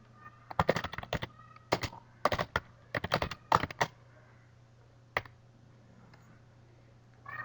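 Keystrokes on a computer keyboard while a blog post is written, coming in quick irregular bursts of clicks with short pauses between, close and clear over a faint steady hum, ending in one isolated tap.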